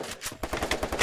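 Rapid bursts of automatic gunfire from a Free Fire match as a headshot lands, loud, close and repeated in quick rhythm with no talk over it.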